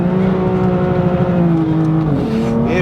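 A BMW M4 Clubsport drives on a road, its engine droning steadily and loudly from inside the car before the pitch drops and rises again as the driver shifts near the end.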